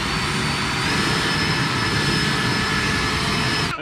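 An EGO Power+ 600 CFM battery backpack leaf blower running on turbo gives a steady, loud, continuous rushing whine with a high airflow hiss that stops abruptly at the end.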